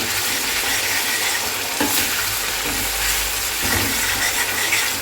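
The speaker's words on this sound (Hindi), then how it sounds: "अब इसके अंदर डाल दिया जाए साग।" Mustard greens (saag) dropped into a fried onion-garlic masala in a pan, giving a steady loud sizzle and frying hiss with a few soft clinks and stirring scrapes, no talking.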